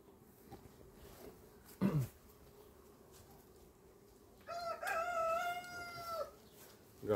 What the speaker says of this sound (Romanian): S-a trezit cocoșul.